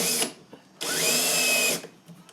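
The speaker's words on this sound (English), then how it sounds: "Let's drill hole." A power drill bores a hole in clamped metal without a pilot dent: a short whir, a pause, then a sustained loud drilling burst of about a second, close and clear with no talk.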